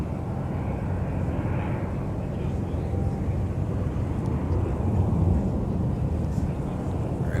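An airliner on approach to land at Minneapolis–Saint Paul airport, a steady, broad low rumble of jet engines with some wind noise that holds at an even level throughout.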